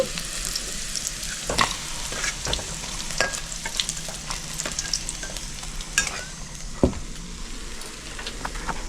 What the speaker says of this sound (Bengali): উস্তেটা আমি হালকা লাল করে ভেজে নিয়েছি